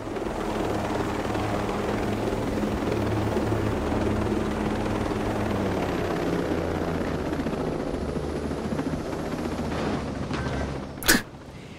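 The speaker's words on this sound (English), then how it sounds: "I bounced the helicopter" A helicopter in the video game Ghost Recon Breakpoint gives a continuous low rotor drone and engine rumble throughout, with a sharp brief impact burst near the end.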